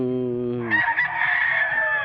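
A pet rooster crows once, loud and close, with a harmonic call that breaks into a rough, strained tail lasting about two seconds, heard alone.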